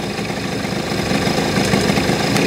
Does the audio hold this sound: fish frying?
no